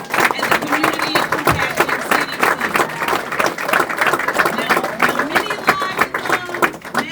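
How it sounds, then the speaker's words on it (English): A town hall audience applauds Mayor Cherell Parker, a sustained dense wash of clapping from a large crowd with voices and cheering mixed in throughout. "Let's give our mayor, Cherell Parker, all the applause here tonight"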